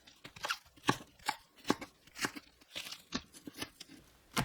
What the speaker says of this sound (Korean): 파를 듬성듬성 썰어주세요